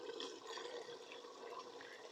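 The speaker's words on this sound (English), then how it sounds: "hot water from the kettle." Hot water from a kettle poured into a pot of meat for aloo gosht balti, a steady close splashing pour lasting a couple of seconds with no talk.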